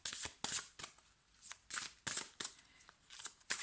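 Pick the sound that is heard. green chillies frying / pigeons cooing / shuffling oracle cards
shuffling oracle cards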